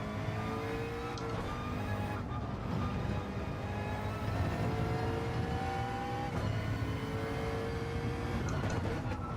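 A race car engine in a sim racing game at Sebring revs and drones steadily at close range, its pitch climbing and dropping through repeated shifts with a constant mechanical whine.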